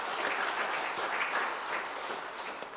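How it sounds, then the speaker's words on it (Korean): A church congregation applauds steadily, a dense and even wash of many hands clapping at once that holds at the same level without a break. "박수로 함께 해주시면 감사하겠습니다."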